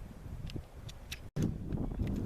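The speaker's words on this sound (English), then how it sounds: "Yeah, we got some wind coming up from behind us here." Gusty wind buffets the microphone at an outdoor shooting range, low rumbling bursts that rise and fall, broken by a brief cut-out midway, with no voices.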